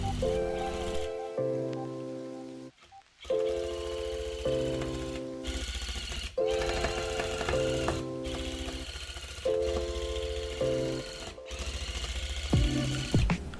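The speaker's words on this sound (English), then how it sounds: "you can turn that knob on the bottom of your machine to have it go a little bit faster" A rug tufting machine runs in long buzzing bursts with a steady mechanical whine, stopping and restarting about six times, with a louder rattling push near the end.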